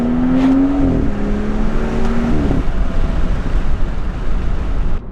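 A BMW F30 340i fitted with an AWE touring exhaust, a steady loud engine drone with a rising tone that drops abruptly twice as the ignition cuts, then settles into a rough, rumbling idle-like burble.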